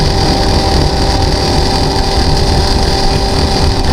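A cordless fuel transfer pump runs with a loud, steady motor drone and an even whir that holds unbroken at close range.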